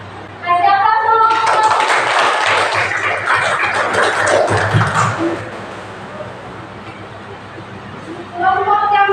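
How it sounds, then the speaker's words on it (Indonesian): Applause and clapping from a classroom of students, a dense burst lasting several seconds that swells and then fades, with voices talking over it at the start and end. "Kasih aplaus dulu."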